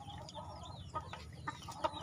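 Hens clucking and squawking as they fight among a flock of breeding hens, several agitated calls rising over a steady low farmyard rumble.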